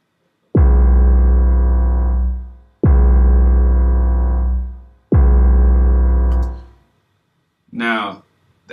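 A hip-hop beat mixed with a deep 808 bass gives three long, heavy booming bass hits with harmonic piano-like stabs, each sustaining and fading before the next, loud and close. A short vocal sound follows at the end.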